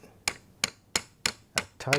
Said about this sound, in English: through both the horizontal piece and the key and hammer that in